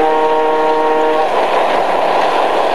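A model railroad train runs on a layout, passing beneath an access bridge toward a middle loop, with a steady loud rolling rumble throughout and a sustained horn-like harmonic tone for the first second.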